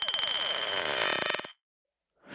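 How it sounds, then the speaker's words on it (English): A harsh, metallic, ringing tone from ceramic recordings run through ring modulators, with a rapid pulsing texture, holds steady, stops abruptly, then a new burst begins at the very end. "But then putting it through ring modulators."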